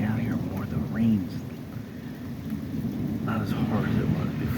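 Thunder rumbles and cracks during a heavy rainstorm, with steady rain hissing throughout; a loud close boom early on, then further rolling peals over the constant downpour.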